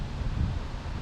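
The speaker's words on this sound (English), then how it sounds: "Wind in the back." Wind blowing across an open golf course, a steady low rumbling buffet against the microphone with no voices, continuous through the brief moment.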